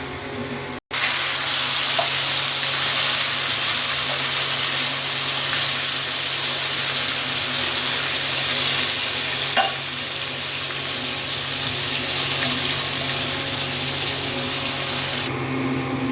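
Mutton hits hot oil with whole cumin, bay leaves and garam masala in an onion- and garlic-free curry, giving a loud, continuous close sizzle as it is stirred, with a brief break just at the start.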